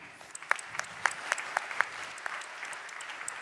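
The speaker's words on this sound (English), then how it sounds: "Please give a round of applause for our next speaker," An audience at an anti-corruption conference's opening plenary gives a speaker a short burst of applause, many hands clapping densely in a large hall for a few seconds.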